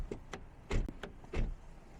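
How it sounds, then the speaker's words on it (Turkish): A Skoda Scala car door opens and shuts, giving a few quiet clicks and then two muffled thuds in quick succession, heard close up and faint. "Yani kapı seslerimiz idare eder."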